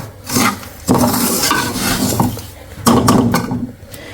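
Almonds stirred into ghee panjeeri made with semolina in a pan, giving repeated scraping and clinking of a spoon against metal with soft rustling of the mixture, close and fairly loud, no talk.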